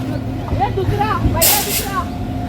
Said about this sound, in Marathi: इथेच थांबूया चला गाडी आली